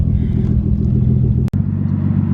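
Nissan S14 fitted with an RB engine driving, its low steady engine rumble and drone close and loud with a brief dropout in the middle.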